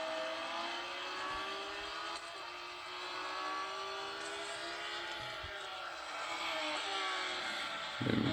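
A car engine revs and whines in a racing video game played on a Meiigoo Note 8 smartphone, its pitch climbing and dropping through gear changes during a drift, fairly quiet and steady, with no one speaking.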